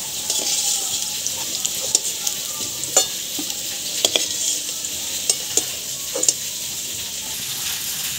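Spice masala frying in oil in a kadai, a steady sizzle punctuated by sharp scraping clicks of a spatula stirring at uneven intervals.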